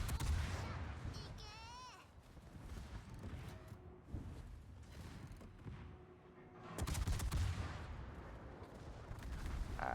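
Ship guns firing in World of Warships, with repeated booming salvos and crackling bursts under game effects, heavy blasts near the start and again toward the end.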